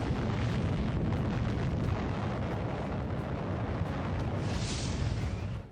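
A massive multi-megaton nuclear bomb explosion rumbles as one sustained, deep, roaring blast, loud and continuous for several seconds before cutting off.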